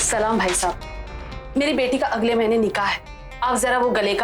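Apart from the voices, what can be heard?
No everyday noises stand out.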